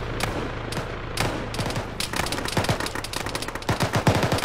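Sustained gunfire in an ArmA military game battle, with scattered single shots that build into rapid, dense bursts of automatic fire, close and loud throughout.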